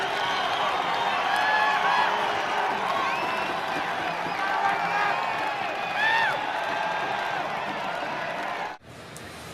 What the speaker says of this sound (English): The crowd getting a little anxious right here.